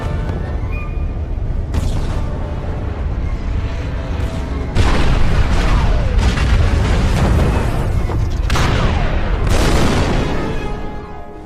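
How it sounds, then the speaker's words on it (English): Cannon fire and explosions rumble through the Star Wars Revenge of the Sith video game, with heavy booms landing every couple of seconds over a loud, continuous roar of battle. "Excellent shooting, Anakin."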